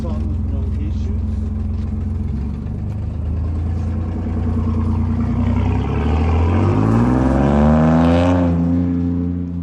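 Loud car engine rumbling nearby in a residential neighborhood, a deep steady drone that swells into a rising rev toward the end, close and prominent throughout.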